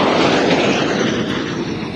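An F-86 Sabre jet aircraft gives a loud, steady, close roar of broadband engine noise that holds for the whole two seconds with little change.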